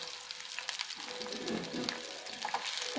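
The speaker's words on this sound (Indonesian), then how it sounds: "Kita tumis di bawangnya" Shallots sizzling as they sauté in a hot pan, a steady bright crackle with soft stirring scrapes from a heat-resistant spatula, close and continuous with no talk.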